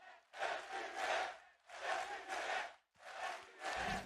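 An esports arena crowd at an FPX versus OpTic match chants in unison, three loud sustained rhythmic bursts of massed voices with brief gaps between them.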